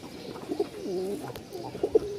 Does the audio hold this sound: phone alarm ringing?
no